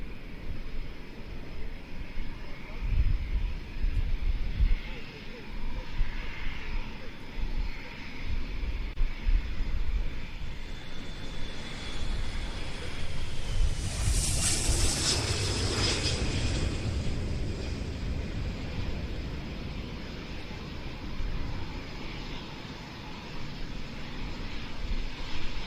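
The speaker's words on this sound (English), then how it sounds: "The KC-135R, however, is now commencing its takeoff roll." A KC-135R tanker jet begins its takeoff roll at an air show departure, a broad distant engine roar that swells to a louder peak midway and then fades into steady rumble.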